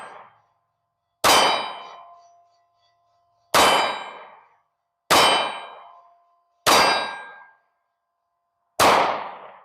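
S&W Shield Plus 9mm pistol fired at steel targets, six sharp ringing clangs at irregular intervals with long decaying tails and silence between them, loud and close.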